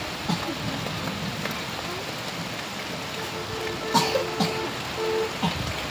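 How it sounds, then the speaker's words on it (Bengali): Wind gusts and rain outdoors near a tree during a sudden storm make a steady broadband rush, with a few brief louder bursts toward the end. "বাতাসও হচ্ছে, বৃষ্টি হচ্ছে"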